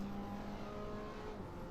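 Race car engine in Assetto Corsa held at high revs, a steady sustained drone with a constant whine, loud and continuous with no talk over it.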